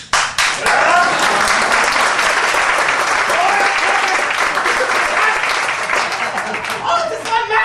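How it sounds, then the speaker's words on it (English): A joyful crowd claps and cheers as a five-level human pyramid is built, loud, dense applause swelling quickly and sustained for several seconds, with voices calling out through it. "Joy and clapping!"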